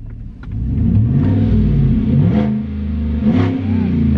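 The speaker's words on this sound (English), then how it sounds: "Maybe I'll just go in the driveway and rev bomb it." A car with its muffler and resonator cut out revs in a driveway, giving a few loud, raspy throttle blips and a rumbling idle between them, heard up close.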